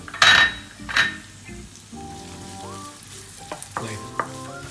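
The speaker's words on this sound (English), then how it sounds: "Then our crushed garlic and chopped onion. Then saute around 3-4 minutes." Crushed garlic and chopped onion sautéing in a pan for spaghetti sauce, a couple of sharp clinks of a utensil at first, then a quiet steady sizzle with occasional stirring taps and no voices.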